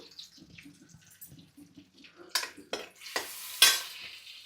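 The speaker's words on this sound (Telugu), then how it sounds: "కొంచెం ఎల్లుల్లిపాయలు, కట్ చేసి పెట్టుకున్న ఎల్లుల్లిపాయలు వేసుకుందాం. ఇవి కొంచెం వేగనిద్దాము." Chopped garlic hitting a hot pan for hariyali chicken, giving soft stirring and light sizzling that builds into a few sharper splattering bursts near the end, fairly close and without talk.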